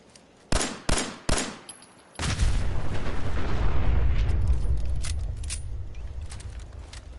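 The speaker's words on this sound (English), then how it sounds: "You didn't hear the gunshots" Gunfire in the video game Fallout 4, three sharp separate shots followed by a long, dense roaring burst of rapid fire that slowly fades, loud and close.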